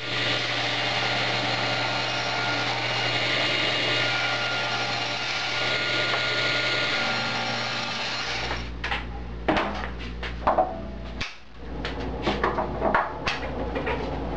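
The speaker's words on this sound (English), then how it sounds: "I'm going to cut a 5 by 5 inch block" A power saw spins with a steady whining drone, then cuts a 5 by 5 inch wooden block against a stop block, the motor note dropping into a low rumble broken by clunks and knocks of wood being handled.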